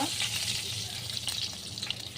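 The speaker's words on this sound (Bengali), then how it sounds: "কালো জিরে ফোড়ন দিয়ে দিচ্ছি।" Bay leaf, dried chili and nigella seeds crackle and sizzle in hot oil in a kadai, a steady close frying hiss with small spattering pops throughout.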